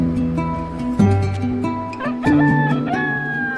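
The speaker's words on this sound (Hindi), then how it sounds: "तभी मुर्गे के बाग देने की आवाज सुनाई देती है" A rooster crows loudly and close by in a long, drawn-out cock-a-doodle-doo with rising and falling pitch, clucking fowl audible around it.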